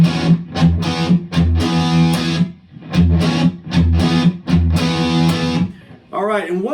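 Classic rock riff on electric guitar through a Marshall DSL-40 with light overdrive crunch, punchy chord stabs in a syncopated rhythm with short gaps, loud and close, followed by a brief voice at the end.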